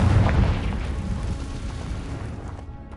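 A Confringo blast spell in Hogwarts Legacy goes off in a single heavy boom at the start, then a rumbling explosion tail fades away over a few seconds.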